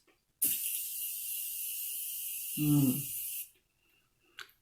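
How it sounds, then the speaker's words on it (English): Setting spray spritzed onto a face as a fine mist: one sustained, even hiss lasting about three seconds, close and fairly soft, with a short vocal murmur partway through and a faint click afterward. "So I'm just going to go ahead and give myself a quick little spritz."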